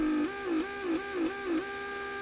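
A Mercedes central door lock vacuum pump runs steadily, its motor hum warbling in a repeating cycle about every third of a second as it works against a leak in the vacuum circuit.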